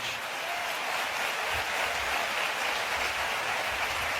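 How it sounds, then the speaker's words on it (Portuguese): A church congregation applauding at an evening service: a dense, continuous roar of clapping hands that holds steady at full volume throughout, sounding close and loud, with no speech above it. "Você pode aplaudir ao Senhor Jesus nessa noite."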